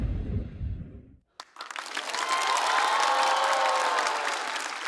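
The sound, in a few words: audience applause after a stand-up comedy set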